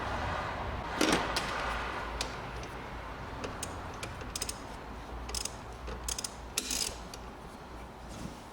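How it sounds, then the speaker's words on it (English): A ratchet working on a 14mm engine mount bolt of a Toyota Corolla in a garage, giving scattered clicking and ticking strokes at an uneven pace, close but fairly soft over a steady background hum. "So I'm going to take off the big bolt first, which is a 14mm,"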